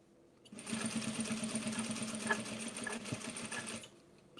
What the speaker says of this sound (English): We're up sewing